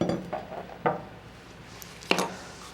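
A Ruger 10/22 barrel being removed from an Archangel AAQBD takedown stock: a few hard metallic and plastic clicks and clacks, two sharper knocks standing out, close and quiet.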